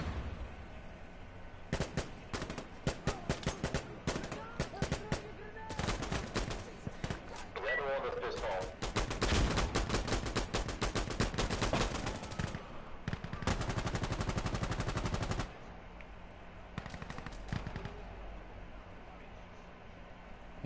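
Light machine gun fire in a first-person shooter video game, rattling out in long, dense automatic bursts with brief gaps, loud and close, with voices talking over the shooting.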